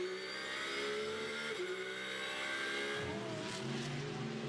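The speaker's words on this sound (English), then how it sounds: "There going through ahead of him is the Mercedes and the McLaren" Mercedes and McLaren GT race cars run past during qualifying at the Spa 24 Hours, a steady loud engine roar with shifting pitch and a rising second engine note toward the end.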